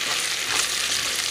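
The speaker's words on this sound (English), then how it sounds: "The seasoning is frying up nicely." Seasoning fries in a pan before kale greens go in, a loud, steady sizzle with crackling bursts and no talking.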